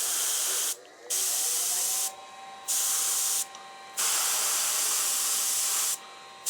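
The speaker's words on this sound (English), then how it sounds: "We're just going to spray the lower toes just a little bit." Bursts of spray hissing from an aerosol can of paint applied to the toes of a pheasant taxidermy mount, four long sprays separated by short pauses, loud and close.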